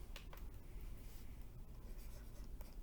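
A pen scratches faintly across paper as someone writes out an algebra solution set by hand, in a quiet, continuous run of small strokes.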